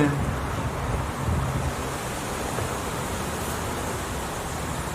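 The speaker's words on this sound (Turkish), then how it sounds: "Çok rüzgar var." Steady, rushing wind buffets the microphone, a broad continuous roar with no distinct other sounds.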